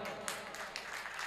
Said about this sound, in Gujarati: એકવાર જોરદાર બે હાથ હોય એ જ તાળી પાડો.